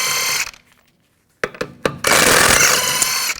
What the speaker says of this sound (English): use a 21mm socket. Take the lug nuts off.